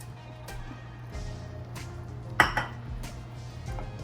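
Risotto with cheese stirred in a pot, a spoon scraping and knocking against the metal in irregular taps, one sharper clang midway, over a low steady background hum.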